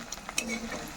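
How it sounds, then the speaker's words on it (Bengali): Chicken leg pakora pieces, thick drumsticks in batter, frying slowly in hot oil with a steady close sizzle and a few light clinks of a utensil turning them. "আস্তে আস্তে করে ভাজতে হবে,"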